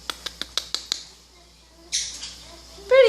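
A pet parrot squawks and chirps in a quick run of six sharp calls, then a louder raspy squawk and a closing burst of warbling whistles, close to the mic in a quiet room.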